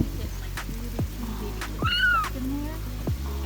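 Abandoned baby kitten found on a farm, giving several thin, high, rising and falling meows in close succession over a steady background rumble.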